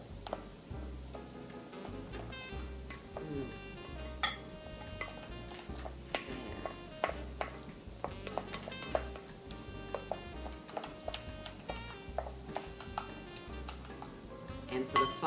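A utensil mixes Polish apple placki batter as flour is worked in inside a bowl. Light scraping and clinking taps repeat irregularly against the bowl at close range, at a fairly quiet level, with no talk.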